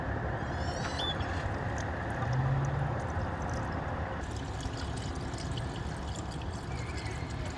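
Coolant poured carefully into a car engine without a funnel: a steady, continuous liquid pour and trickle that stays even and moderately close throughout, with no talk.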